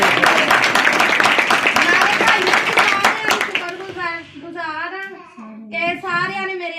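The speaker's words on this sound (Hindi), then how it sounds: "आखिर के लिए जोरदार तालियां" Loud applause and clapping from a church congregation at a Sunday Holy Spirit meeting fills the first half, then fades as a voice begins singing or speaking over it.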